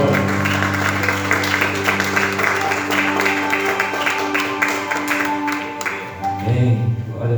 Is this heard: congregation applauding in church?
yes